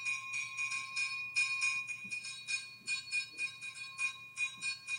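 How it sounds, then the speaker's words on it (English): Two African bells in a dance piece ringing a steady repeating timeline pattern, bright metallic strikes in tight regular phrases with short pauses between, clear and fairly close over a faint low hum. "Bell, second bell joins. So that's a timeline, that rhythmic pattern."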